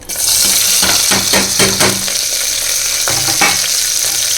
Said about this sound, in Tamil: இப்போ அப்படியே பெரிய வெங்காயத்தை உள்ளே கொட்டிக்கலாம்